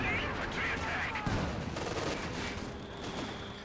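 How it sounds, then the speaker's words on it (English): Artillery and tank gunfire in the Company of Heroes 2 strategy game, with an artillery officer and a Panther tank shelling a structure: dense, continuous rumbling volleys and shots under a busy battle mix, with a sharper blast near the middle. "Artillery officer firing away. Panther putting some rounds into the structure."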